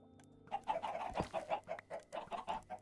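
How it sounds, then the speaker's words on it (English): Several chickens in Minecraft cluck in quick uneven bursts, one brief sharp thump partway through, the clucking continuous and soft with no voices over it. "Man, those chicken clucks are loud."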